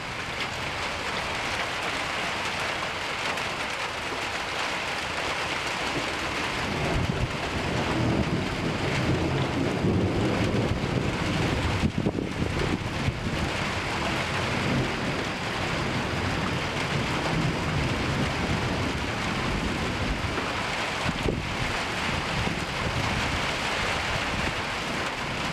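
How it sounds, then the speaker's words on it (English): Heavy rain pours steadily through an Oklahoma thunderstorm, with low rumbles of thunder rolling underneath and a few sharper cracks standing out midway, all continuous and close with no talking. "Lots of thunder, lots of lightning, and a whole lot of rain."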